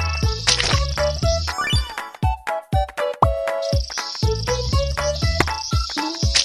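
In the insect-collecting stage of the video game Psycho Boy, insects swarm with dense cricket-like chirping, a busy flurry of rapid clicks and trills.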